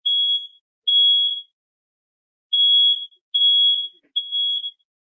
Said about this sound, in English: I guess the smoke detector.